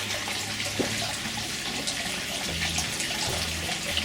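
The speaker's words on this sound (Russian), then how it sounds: "И сам горячий источник." Hot spring water at a Japanese onsen runs in a steady, close, full-bodied gush, an even watery hiss with faint low rumbling underneath and no voices.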